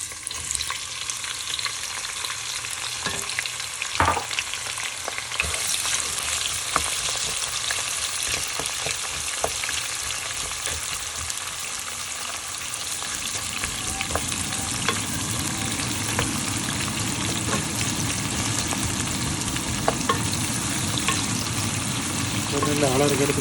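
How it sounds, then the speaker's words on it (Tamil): Sliced onions go into hot oil in a pan for prawn biryani and fry with a steady, broad sizzle that swells louder partway through, a few clinks of stirring on top, with no one speaking. "இப்போ நான் வெங்காயம் பட்டி வச்ச வெங்காயத்தை போட போகிறேன்."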